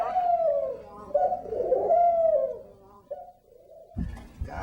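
A pair of pet doves coo indoors in an artist's studio, long soft rolling calls close by, fading near the end into a few light knocks and handling sounds.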